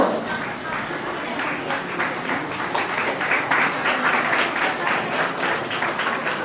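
Sustained applause from the audience at a Sundarbans scholarship day ceremony, a dense unbroken wash of clapping with a faint voice partly audible beneath it.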